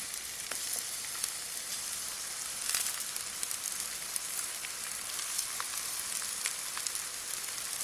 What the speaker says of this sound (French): dans une poêle que j'ai mis à chauffer, je vais mettre de l'huile d'olive et je vais faire cuire les aubergines